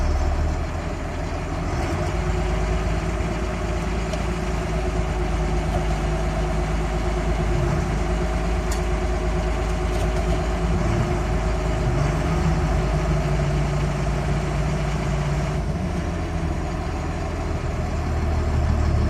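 A diesel truck with a Cummins P-pump engine idles with a steady low rumble, then pulls away from a stop, the drone continuing close and unbroken without talk.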